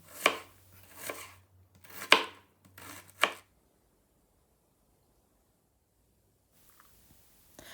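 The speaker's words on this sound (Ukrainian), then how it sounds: "Білу цибулю можна нарізати під кільцями або ще дрібніше" Four distinct knife chops slice a white onion on a cutting board at a steady pace, close and crisp, followed by several seconds of near silence.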